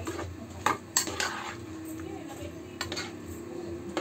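A utensil scrapes and clinks against a pan while pork giniling with tomato sauce is stirred, sharp metallic knocks over a low steady background, close by.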